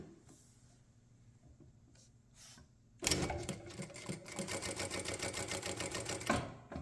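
A Jack A5E-A sewing machine runs through lightweight nylon ripstop in a loud, close, rapid burst after a few quiet seconds of faint handling, then stops near the end.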